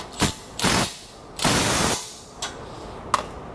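Metallic ratcheting bursts from a hand wrench tightening a nut to lock down a winch mount on a Lexus LX, in several short separate bouts of varying length, close and fairly loud, with no talk.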